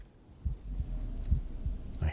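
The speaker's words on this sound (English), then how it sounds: "There's one close enough that the heartbeat sound is going off." Heartbeat warning sound from Days Gone Remastered, a run of dull, low thumping pulses repeating at a steady beat over a faint game background.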